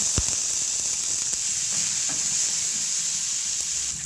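Onions and curry leaves frying in hot oil for a Telugu carrot fry, giving a steady close sizzle that holds evenly for the whole stretch, with a few faint clicks and no voices.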